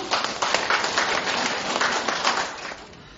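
An audience applauds to welcome a lecturer at a hospital special lecture on arrhythmia, a dense, steady clapping that continues for several seconds before tapering off near the end.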